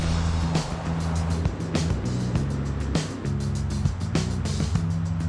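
Steady engine and road rumble from a Rolls Royce car being driven, a continuous low drone with scattered knocks and rattles throughout, no talk.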